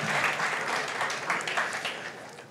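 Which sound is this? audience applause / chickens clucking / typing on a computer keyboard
audience applause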